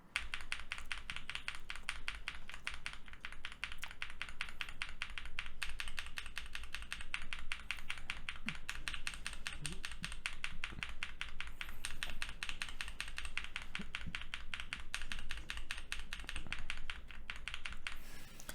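Lubed and filmed Sunflower tactile keyboard switches are typed on continuously, a dense, even stream of close, muted clacks with no voices.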